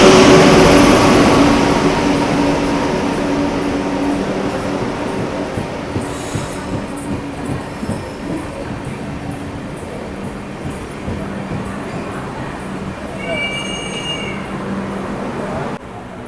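A superfast express train arrives at a railway station in Tamil Nadu with a loud, rumbling roar that slowly fades as the carriages roll past. The clatter of rail and wheels runs throughout, and a high wheel squeal rises toward the end.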